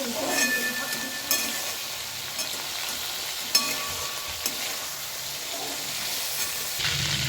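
Prawns frying red in hot oil in a pan, a strong continuous sizzle with light stirring scrapes and a few utensil taps, no speech.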